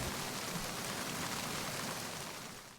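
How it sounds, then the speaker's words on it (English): Steady rain from the video game Metal Gear Solid 2, a dense even hiss of falling water that holds loud throughout and eases slightly at the end, with no voices. "the rain effect is nice and everything"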